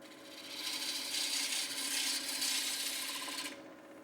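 A wood lathe spinning at about 1,000 RPM with a turning tool making a light cut on a bowl, giving a steady, close, broadband scraping hiss that swells in for about three seconds and then drops away.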